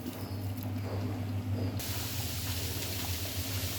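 Tamarind water is poured into a frying pirandai kara kuzhambu curry, giving a steady hiss that suddenly grows into a loud, bright, continuous sizzle close by.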